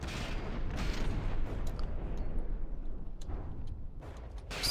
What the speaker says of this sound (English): Still missiles impacting this one back here.